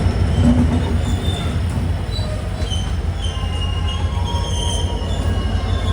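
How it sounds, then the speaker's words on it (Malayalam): A diesel-hauled passenger train, its locomotive brought from India, rolls into a station on Sri Lanka's Colombo–Galle coastal line, with steady loud low engine rumble and high wheel squeals drifting through, no talking. "ഒരു ഡീസൽ ലോക്കോമോട്ടീവില് ഇവിടെ ഒരു ട്രെയിൻ വന്നിരിക്കുകയാണ്."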